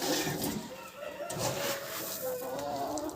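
Brooding hens cluck in a poultry yard, a steady close chorus of low clucks with a few rising calls throughout.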